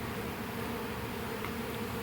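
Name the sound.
honeybees buzzing in a bucket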